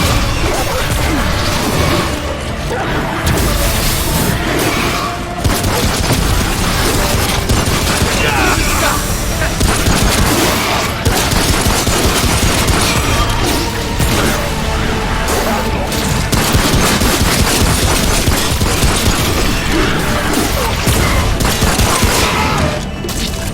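Loud, dense barrage of booming blasts and crashes from a cannon in the video game Remnant: From the Ashes fires continuously, cannon-like shots piling on top of each other without pause.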